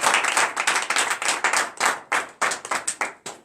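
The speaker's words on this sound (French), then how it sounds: "Acclamons le Seigneur." A church congregation claps steadily during a French-language morning prayer service in Benin, a dense run of handclaps with rhythmic accents, loud and close, with no talk over it.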